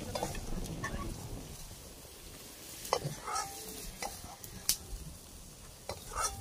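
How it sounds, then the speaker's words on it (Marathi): Paneer frying in a little oil in a hot kadhai gives a steady soft sizzle, broken by several sharp clinks and scrapes of a spatula against the pan. "हे का पनीर भाजली मी छान अशी खरपूस थोडस तेल टाकून."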